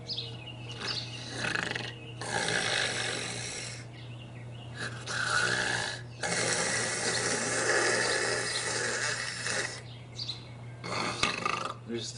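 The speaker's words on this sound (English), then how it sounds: "snores all night" A man snores through the night in long, rough, rattling breaths that repeat at a slow, irregular rhythm, loud and close, with short quiet gaps between them.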